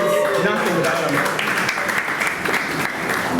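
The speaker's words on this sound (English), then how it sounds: "just give Josh a huge round of applause" Audience applause for Josh at the CTRL+SHIFT Vol 8 community event, dense sustained clapping from a crowd with a few voices cheering within it.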